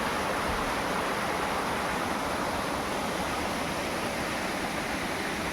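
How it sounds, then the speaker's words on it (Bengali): A small waterfall inside a bamboo grove in hilly Sittong pours in a constant, dense rushing roar, close and unbroken with no voices. "বাঁশ ঝাড়ের ভেতরে ঝর্ণা।"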